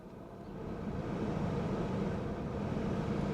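A steady, even whir of a Jaguar XK8's heater fan motor, a low broadband rush holding constant throughout with no voices.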